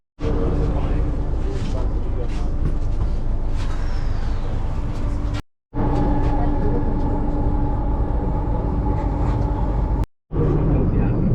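Steady loud rumble and whine of a Delhi Metro train in motion, continuous, cutting out briefly twice, with indistinct voices beneath.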